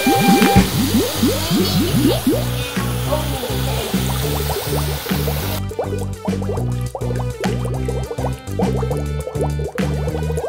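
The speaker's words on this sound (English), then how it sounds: "Doc is gonna wash the dishes." Water runs while a toddler washes dishes at home, a hissing splash that cuts off abruptly about halfway through. It sits under a bouncy, rhythmic backing sound that continues afterward.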